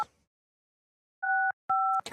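Two short dual-tone telephone dialing beeps, close and clear, after a brief moment of silence, followed by the start of a dial tone.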